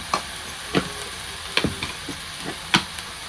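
A spoon stirs and scrapes coriander powder, garam masala and red chili powder in a pan for methi masala. Soft irregular clinks and scrapes sit over a low steady sizzle, close by, with no voices.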